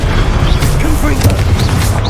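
Confringo fire blast spell in the Hogwarts Legacy video game: a continuous booming, rumbling blast with dense low-end energy and crackling texture, loud throughout amid battle noise and shouted spell calls.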